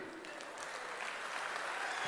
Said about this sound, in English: Let's give a big round of applause, my friends, to Dr. Rajkumar Ranjan Singh Ji